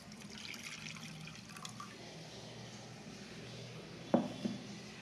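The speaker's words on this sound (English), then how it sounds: "into it will pour milk. I used Amul Taja milk." Amul Taja milk is poured into a pot, a faint continuous liquid stream under low background noise, ending with a couple of soft splashing knocks near the end.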